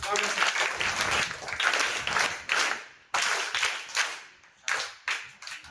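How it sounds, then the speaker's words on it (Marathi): Students welcome a guest speaker at a Navodaya school guidance session with a burst of applause. A crowd claps and cheers in several loud swells that break off and restart, with voices mixed into the clapping. "तिचा आधी 3 टाळ्या वाजवून स्वागत करा"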